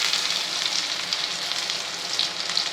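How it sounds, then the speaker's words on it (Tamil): Cumin, mustard seeds and onion tempering in hot oil in a ladle for a drumstick-leaf kuzhambu, a dense, steady hiss with no talk and only small flutters in loudness throughout. "கரண்டியில் எண்ணெய் விட்டுருக்கேன் தாளிக்கிறதுக்கு."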